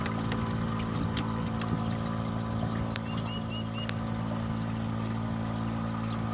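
Water from two 10-gallon gravity-fed containers flows into float buckets in a garden, a continuous close trickling and pouring with faint ticks, over a steady low hum.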